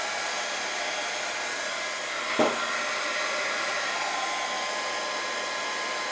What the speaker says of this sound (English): the way I like to heat up these guys is with a hot gun